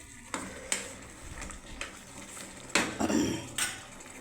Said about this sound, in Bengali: গরম ঘি দিয়ে দিলাম বন্ধুরা।